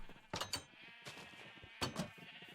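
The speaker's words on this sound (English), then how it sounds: "inside here, we have the automatic sheep farm" Sheep in an automatic sheep farm in Minecraft bleat three times in a row, wavering and nasal, with faint game ambience underneath and no talking.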